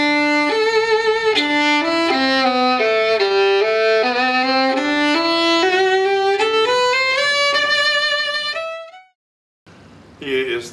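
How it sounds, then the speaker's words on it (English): An Amore violin plays a rising melodic line of sustained, resonant bowed notes, then stops abruptly into brief silence before another short sound. "This is the sound of the Amore violin."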